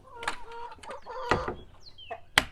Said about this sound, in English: I'm out here with the chickens